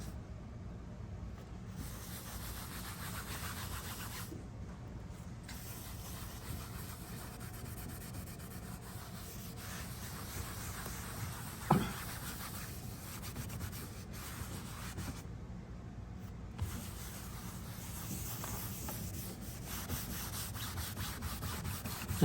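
Cerusing wax is rubbed across the grain of a piece of wooden furniture and pushed down into the grain. The scrubbing strokes are soft, steady and continuous, close by, with no voices.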